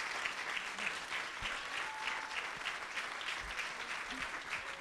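Steady applause from an audience at a national school debating final in India, greeting the announced winner; dense, continuous clapping that holds at an even level throughout, with a few faint voices underneath.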